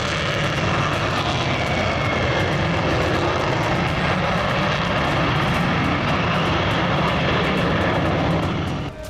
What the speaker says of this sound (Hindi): अमेरिका का यह हवाई योद्धा 6ठी पीढ़ी का एडवांस और हाईटेक फाइटर जेट है